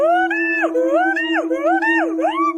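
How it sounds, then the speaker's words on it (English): A howler monkey howls in long, rising and falling wavering calls over a steady droning tone, loud and close with no break through the stretch. "Top 4, Howler Monkey."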